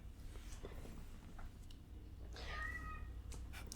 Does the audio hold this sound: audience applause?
no